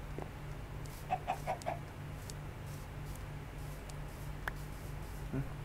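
A chicken in Minecraft gives a short run of four quick soft clucks, then a couple more scattered ones later, faint against a steady game background hum.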